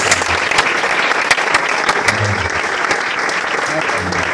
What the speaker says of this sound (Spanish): Dale un fuerte aplauso a la palabra de Dios.